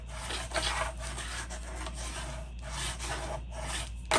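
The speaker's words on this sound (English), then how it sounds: "I'm just smoothing my glue down now." Glue being smoothed by hand across a journal cover, close and soft, with repeated dry rubbing strokes in a steady back-and-forth rhythm and no talking.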